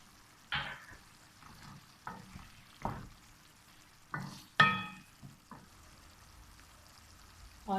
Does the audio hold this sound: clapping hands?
no